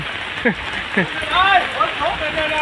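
A heavy rainstorm hisses steadily over a shop, a constant broad wash of falling rain under people talking.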